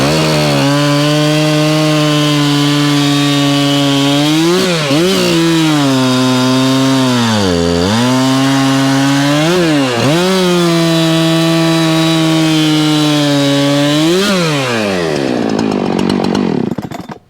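A professional Husqvarna chainsaw with an adjustable carburetor cuts firewood. The engine runs loud and close, its pitch bogging down and recovering again and again as the chain works through the wood, then it cuts off at the end.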